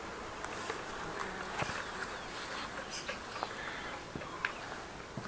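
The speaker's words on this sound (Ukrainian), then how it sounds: "Вон вони там лазять, жужжать." A faint, continuous drone of bees buzzing around hives in a quiet outdoor setting, with occasional soft clicks and rustles, low in level and steady throughout.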